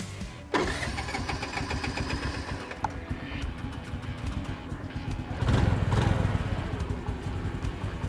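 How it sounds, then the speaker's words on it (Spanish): A Honda Navi motorcycle engine cranks and catches, then settles into a steady, rumbling idle close by, revving up briefly near the end. "Ahora vamos a proceder a prender la moto."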